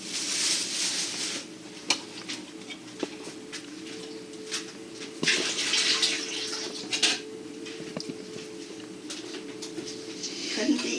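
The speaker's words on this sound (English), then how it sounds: "I'm rinsing them." Produce being rinsed under a running kitchen tap while cooking, a steady wash of flowing water with occasional clinks of dishes, heard close and continuous alongside a speaking voice.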